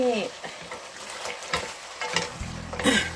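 Dok hom flowers stir-fried in a pan, with quick spatula scrapes and clinks over a soft, steady sizzle that crackles up near the end.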